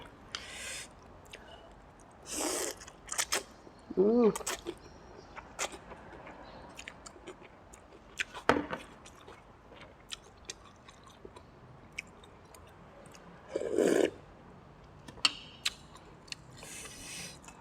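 Close, wet chewing and slurping while eating Thai pork noodle soup with meatballs, in scattered bursts separated by quiet gaps, no talk.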